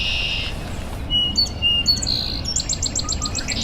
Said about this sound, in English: There's a song sparrow singing prettily right there.